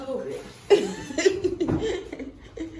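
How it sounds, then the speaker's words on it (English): A woman gives a few short coughs from heavy disinfectant fumes, close to the microphone, with light laughter and some talking mixed in. "she's coughing because there's so much disinfectant in here"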